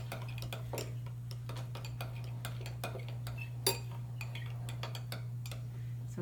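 A spoon stirs green food coloring into glue for slime, making a run of light, irregular clicks and taps against the container over a constant low electrical hum.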